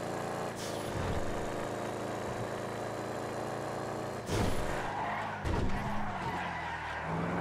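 A Gauntlet S car in a GTA FiveM street race skids and spins out, with a steady engine roar, long tyre-scrub noise and sharper squeals and thumps in the last few seconds.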